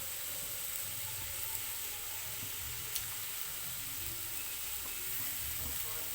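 Chicken pieces for tandoori sizzle steadily in oil over a low gas flame, a constant soft hiss with faint occasional ticks and no one talking.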